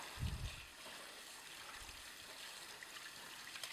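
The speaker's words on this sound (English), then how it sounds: "You're just going to rinse these parts out." Water runs and trickles in a sink as stainless steel citrus juicer parts are rinsed. The sound is a faint, steady wash with a couple of soft low thumps near the start.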